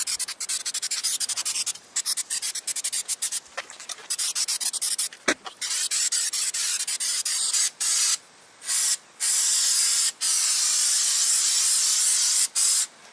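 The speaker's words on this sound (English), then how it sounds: "I'll go ahead and let you watch me coat the inside of this casket." An aerosol spray can coats the inside of a casket built as a fog chiller, hissing steadily in long bursts with brief pauses between passes, loud and close throughout.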